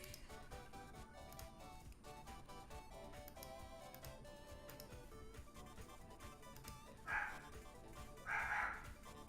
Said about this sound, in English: There goes my crazy dog again.